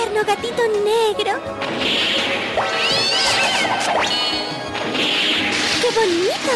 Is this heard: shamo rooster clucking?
no